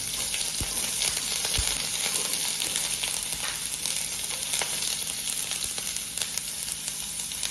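Onions and chopped vegetables sizzling in a hot pan while Maggi masala noodles are being made, a dense, steady frying hiss with occasional faint clicks of stirring, close and continuous, no voices.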